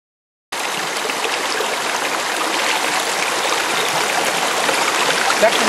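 River water flowing steadily past rocks, a loud continuous broadband rush that starts abruptly and holds evenly to the end, with no voices.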